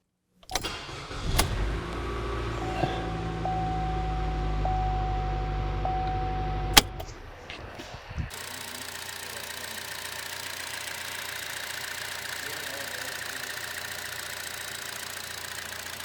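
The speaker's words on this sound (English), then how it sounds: "What do you say we fire it up and watch the power produce itself?" A Chevy 1.4L turbo engine with a newly installed turbo, fitted to fix a P0299 underboost fault, cranks and catches, then settles into a steady, close idle for several seconds before giving way to a constant broad hiss.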